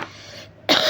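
A single short cough bursts out at the start, followed by a brief pause and then another rough throat sound.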